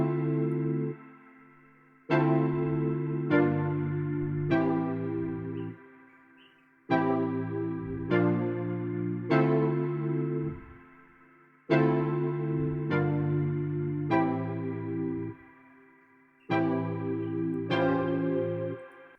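A repeating chord pattern from the Hive synth plugin, processed with stereo shaping, chorus and other effects, for an afrobeat production in FL Studio. Bright stabbed chords fall in groups with short gaps between them, loud and alone.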